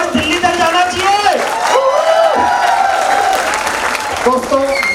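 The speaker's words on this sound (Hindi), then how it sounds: "अरे कंट्री हेड साहब के लिए एक बार ऐसी तालियां बजेगी कि कैसी बजेगी?" Audience applause at a corporate success-day seminar in India, a steady wash of clapping with cheers and whoops rising through it, loud and continuous throughout, with voices shouting over the crowd.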